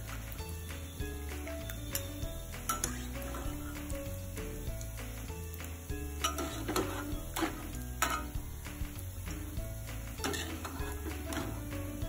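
Kajada, a South Indian snack, fries in hot oil with a soft, continuous sizzle. Occasional clinks of a utensil stirring against the pan punctuate the sizzle.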